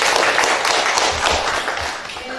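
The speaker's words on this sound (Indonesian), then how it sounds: "Kita kasih tepuk tangan." Classroom applause from students after a lesson exercise, a dense continuous patter of clapping that holds steady for a couple of seconds and then tapers slightly.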